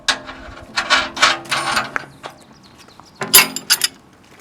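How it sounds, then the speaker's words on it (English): A bolt fitted with a washer and jam nut is tightened on a tooth bar, giving close metallic ratcheting and clicking bursts in uneven runs with brief pauses. "Tight your bolt."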